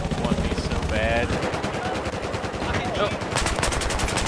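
Automatic gunfire from a machine gun in the video game Battlefield 4, sustained rapid bursts running through the whole stretch, loud and close, with a sharper final volley near the end.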